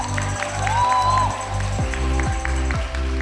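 Applause from the audience welcoming cast members on stage at a Taiwan Television press conference for a prime-time drama, steady clapping filling the room, with music and crowd noise underneath.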